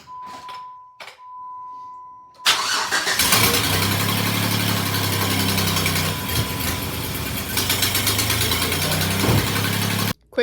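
A cheap Jeep engine cranks after a quiet stretch with a steady tone, catches and settles into a loud, rough, tractor-like idle that runs on continuously until it cuts off.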